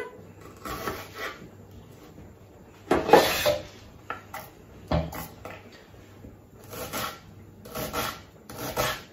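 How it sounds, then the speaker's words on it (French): A serrated pastry knife slicing an onion finely: short rasping, scraping cuts come in uneven bursts, fairly close, with a few louder knocks of the blade against the board. "avec le couteau à pâtisserie, le petit couteau avec ses dents là, je vais couper finement mon oignon"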